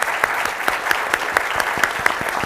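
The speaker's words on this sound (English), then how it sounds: "a round of applause for our panelists." Audience applause for a panel of speakers at an energy grid planning session, a short burst of steady clapping with sharp individual claps standing out, fairly close and alone.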